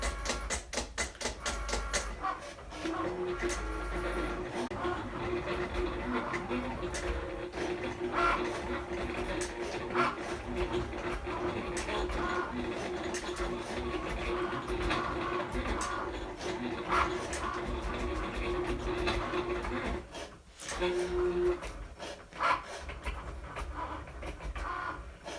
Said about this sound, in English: And I'm going to hit go on the Cricut Maker.